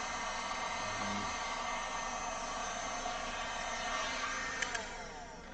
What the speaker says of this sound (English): I just realized I could probably also use your airbrush. That would blow all of the things.